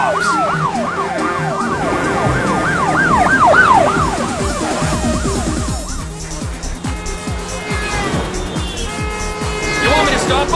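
Police siren in GTA San Andreas, loud and close: a rapid wailing yelp sweeps up and down with engine and traffic noise underneath. A voice talks over it in places.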